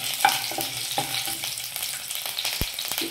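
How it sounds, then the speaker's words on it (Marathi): Peanuts and green chilli sauté in hot oil, giving a steady close sizzle broken by a few sharp stirring clinks and scrapes. "त्यानंतर यात मी हिरवी मिरची घालून घेणार आहे आणि परतवून घ्यायचे थोडंसं"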